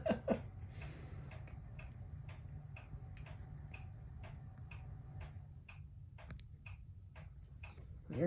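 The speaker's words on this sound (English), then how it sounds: "Now it's eerily quiet in here, other than the pronounced ticking of that clock" Korean-made wall clock ticking loudly in a quiet room with ceiling fans, a steady even series of sharp ticks about once per second over a low background hum, with no one talking.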